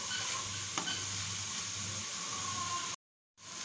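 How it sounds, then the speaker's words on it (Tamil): A coconut milk and banana mixture frying in a pan is stirred steadily, with a continuous close sizzle and scraping that runs unbroken and then cuts out briefly near the end. "இனி ஒரு 1 மினிட் கிளறி விட்டுட்டு நம்ம இதை இறக்கிக்கலாம்."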